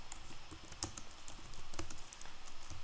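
Typing on a computer keyboard, a close run of quick clicky keystrokes in irregular bursts with a few louder taps, over low room hum and with no voices.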